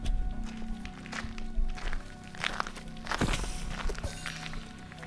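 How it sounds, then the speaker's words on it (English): Footsteps walking outside, used as a horror story sound effect over Minecraft: slow, deliberate treads and thunks at close range, several steps spread across a few seconds over a faint background hum. "Footsteps outside."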